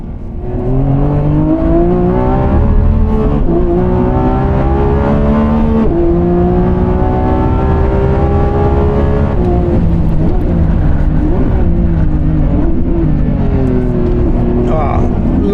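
A Lamborghini Revuelto V12 runs on a track, its engine note climbing and falling through repeated revs and gear changes, loud and continuous throughout.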